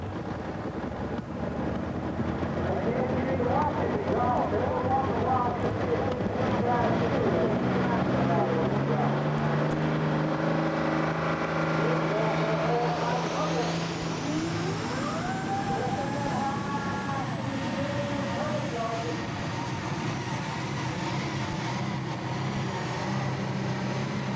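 A modified pulling tractor at a 1994 NTPA Heart of Dixie Grand National pull in Lexington, Alabama makes a long run down the track. Its loud, sustained engine roar rises and changes pitch, with a high whine coming in partway through.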